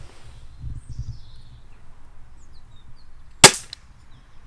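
A single sharp crack from an Umarex UX Trevox air pistol firing a pellet, close and loud, following a few seconds of quiet handling noise with faint birdsong in the background.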